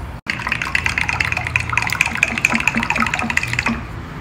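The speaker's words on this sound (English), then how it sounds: "Add some water and whisk it all together." A whisk beats curd with water and turmeric in a bowl, giving a quick, rhythmic wet clatter of close tapping and sloshing strokes after a brief pause at the start, with no talking.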